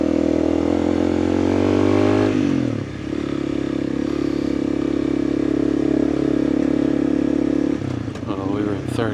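An off-road vehicle grinds through a rut in third gear near Wickenburg, Arizona, its engine loud and close with a steady droning note, a shift in pitch midway, and scraping clatter as it lugs along.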